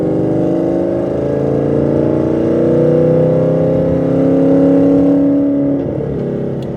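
Engine of a 2016 Ford Mustang RTR revving up to about 4,200 RPM, a loud, sustained rising roar with steady harmonic tone that holds near and then drops away near the end, with no talking.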